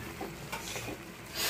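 Spoon stirring curry in a cooking pan, with soft scraping strokes over a gentle sizzle, close and fairly quiet, no voices.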